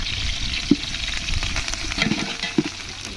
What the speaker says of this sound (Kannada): ಚೆನ್ನಾಗಿ ಹುರಿಯೋಣ.